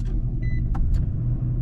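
Two diesel trucks idling nearby, a constant low rumbling drone close by, with a couple of brief faint clicks and a short electronic tone layered on top, no talking.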